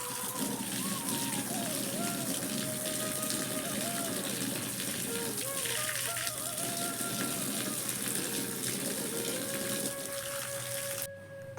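Tap water runs steadily throughout while vegetables are washed in a village home kitchen, with a faint tonal whine over the flow before it cuts off near the end.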